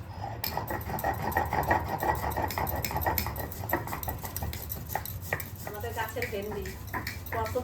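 Poppy seeds are ground to a fine paste for a Bengali home-cooked dish, a continuous whirring, rattling grind with clattering kitchen noises while a voice talks over it.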